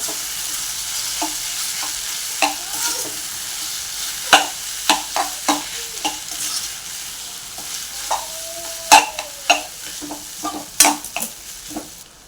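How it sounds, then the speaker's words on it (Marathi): Egg being stirred into Maggi noodles in a sizzling pan, with a steady fry hiss under a string of sharp spatula scrapes and clacks that come in quick clusters, close and fairly loud, no voices. "आणि अंडाही मिक्स करून घेऊया"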